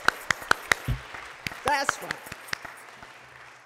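Sharp, separate hand claps ring out in a Baptist church during a Christmas concert, a quick run of evenly spaced claps followed by a few scattered ones, with a voice speaking between them.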